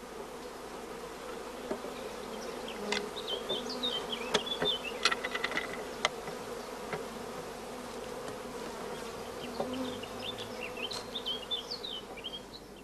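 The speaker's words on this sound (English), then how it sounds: "many young bees are emerging in the starter colony" Honey bees hum steadily in a queen-rearing starter colony, a dense close buzz with occasional higher individual bees flying past.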